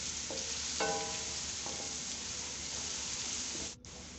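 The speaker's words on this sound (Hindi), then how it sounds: "और 1 मिनट के लिए फ्राई करेंगे।" Onion with ginger-garlic paste frying in oil, a steady soft sizzle with brief stirring scrapes and clinks, close and continuous throughout.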